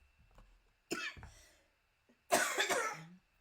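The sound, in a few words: coughing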